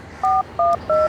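Three short, loud two-tone telephone keypad beeps, evenly spaced and close, with no talking.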